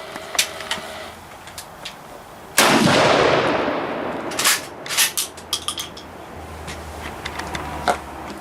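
A 20 gauge shotgun loaded with number 2 shot fires a single loud, sharp blast outdoors, with a decaying boom and ringing tail, followed by faint clinks and handling sounds.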